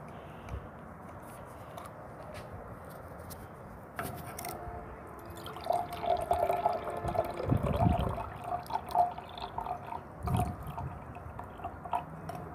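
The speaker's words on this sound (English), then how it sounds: "pouring 100 milliliters of hydrochloric acid into this container here" Hydrochloric acid is poured into a container, giving a faint trickling and splashing liquid sound that begins softly and grows busier midway, with occasional small clinks and no talking.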